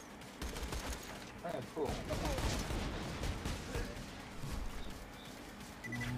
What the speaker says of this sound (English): Let's use the pistol.